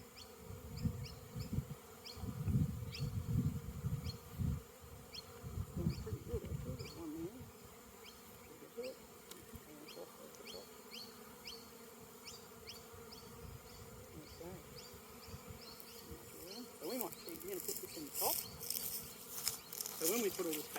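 Honey bees buzz steadily during a hive inspection, a dense drone of many insects close by with individual bees zipping past, plus soft handling thumps and scrapes of frames early on.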